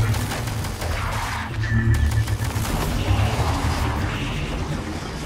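A deployed turret in the video game Prey fires in steady bursts of gunshots, dense and continuous over a low droning background for about five seconds.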